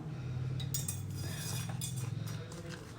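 A spoon stirs spice powder into peanut oil for a crispy tofu snack, making quick metallic clinks and scrapes against a bowl over a low steady hum.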